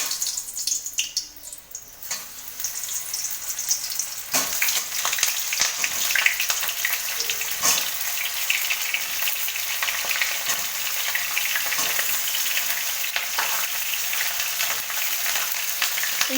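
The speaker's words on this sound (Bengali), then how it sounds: "তেল গরম হয়ে গেছে, আমি এর মধ্যে চিড়ে রাখা পটলগুলোকে দিয়ে দেবো।" Slit pointed gourds (potol) go into hot oil for Bengali shorshe potol, crackling and sizzling steadily and close throughout, with a sharper spatter as they first hit the pan.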